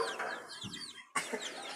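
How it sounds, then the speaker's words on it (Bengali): Rooster and three hens on a farm, giving short clucking calls with chirpy birdsong around them, close and moderately loud with a brief gap of near silence midway. "এটা মোরগ। আর এই তিনটা মুরগি।"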